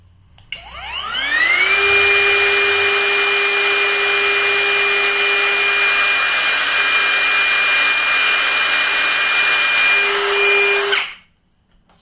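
A BULL brushless trimmer spins up from a start, climbing quickly in pitch to a loud, steady high whine at speed 5 that holds for about ten seconds before cutting off abruptly.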